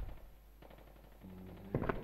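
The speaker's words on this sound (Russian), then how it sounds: "Слышу выстрелы." Gunfire in the survival-horror game Resident Evil: Survivor, a quick cluster of shots bursting out near the end after quiet, low background hum.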